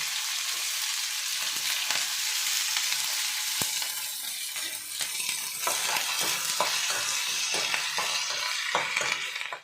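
Onion, green chilli, ginger and curry leaves fry in a pan for masala dosa filling, a steady loud sizzle broken by frequent scraping stir strokes and light clinks, with no talking.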